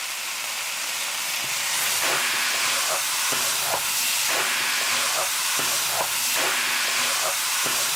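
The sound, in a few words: shrimp stir-frying over high heat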